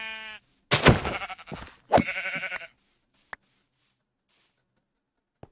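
A goat in the Minecraft video game bleats at close range in a few short, harmonic bursts, followed by a couple of brief clicks and otherwise near silence.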